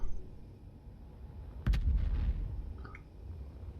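A weapon fires in the Space Engineers video game: one loud, sharp boom that rolls into a short low rumble of about half a second, then quiet, with no talk.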